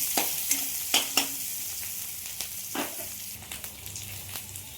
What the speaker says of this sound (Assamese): তেলখিনিত মই শুকান জলকীয়া আৰু পিঁয়াজ আৰু তেজপাত আটাইখিনি লৈ পেলাই মই ভাজি আছোঁ।